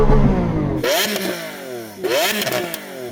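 Close and loud, a Lamborghini Aventador SV V12 snarls through two hard revs that climb steeply and fall back, with crackling burble in between.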